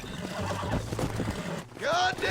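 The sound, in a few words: horse neighing in the Red Dead Redemption video game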